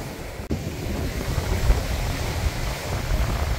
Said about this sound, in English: Sorry about the noise if it's windy.